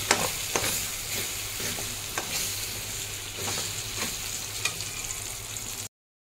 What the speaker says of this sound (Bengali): এবার এটাকে ভালো করে নাড়িয়ে নেবো, নাড়িয়ে জলটাকে শুকিয়ে নেবো